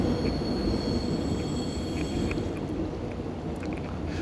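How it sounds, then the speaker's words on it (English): Train passing beneath at an underground station, a steady loud rail roar with wheel squeal running throughout, no talk. "Whoa, under a train station."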